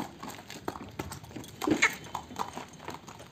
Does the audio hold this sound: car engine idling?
no